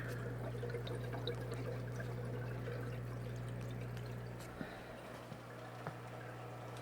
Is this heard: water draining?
yes